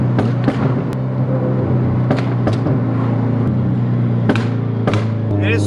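A Subaru WRX tuned to 650 wheel horsepower and running on E85 fuel crackles with a series of sharp, loud exhaust pops and bangs over a steady engine drone, the irregular bursts clustered close together.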